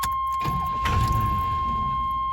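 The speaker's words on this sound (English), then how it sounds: "Yeah, so it tried to fire." Chevrolet GMC 2.8 engine with a starting fault cranks briefly and tries to catch after a shot of ether starting fluid, a short low rumbling burst at close range with no talking.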